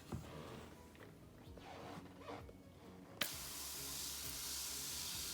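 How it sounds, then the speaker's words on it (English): Water misted from a pump spray bottle onto a paper towel. Faint handling noises come first, then a sudden sharp spritz that turns into a steady soft hiss, quiet and close. "And then I pump up the top of it, and I spray my paper towel."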